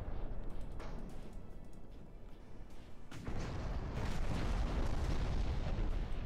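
Naval guns fire in the warship game Ultimate Admiral Dreadnoughts, giving a dense, rumbling roar of heavy booms that swells sharply about halfway through and stays loud and continuous, with no speech.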